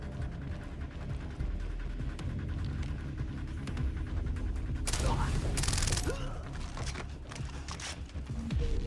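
Gunfire from the shooter game Far Cry 3 breaks out as loud, dense bursts of shots over a rumbling, throbbing game soundscape, peaking in a heavy volley midway before easing back.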